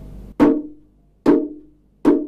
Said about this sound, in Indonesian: Jadi dia akan membunyikan suara yang lebih low seperti ini.